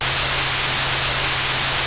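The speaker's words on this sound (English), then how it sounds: "I've just got some white noise here. It's just giving it its crunch." Synthesizer white noise hisses loud and steady without any change, with a faint low hum running underneath.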